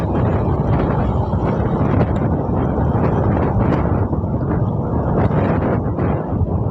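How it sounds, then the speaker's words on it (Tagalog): Heavy rain and cold wind in Pasig roar as a dense, steady broadband wash, loud and continuous with no pauses, likely buffeting the microphone. "Lamig ng hangin mga idol dito, lakas ng ulan dito."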